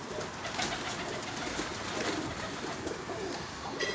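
Pigeons coo softly amid a dense, steady wash of outdoor noise, with faint scattered bird sounds and no talking.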